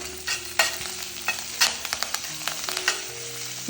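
Kashmiri and red chillies frying with dal in a pan, giving a close, steady sizzle with scattered crackles and stirring scrapes, no voices.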